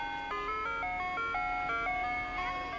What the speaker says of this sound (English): the sound of an ice cream truck brings back memories of your childhood